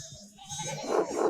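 A sheep bleats in the medieval video game Pentiment, a short, wavering cry that rises near the end over a faint background.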